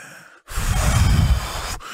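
A narrator imitates a wolf blowing hard on a straw house: a single long, breathy gust that swells abruptly, holds for over a second and cuts off, loud and close with no words.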